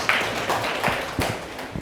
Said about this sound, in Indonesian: tepuk tangan untuk 5 kelompok yang sudah mempresentasikan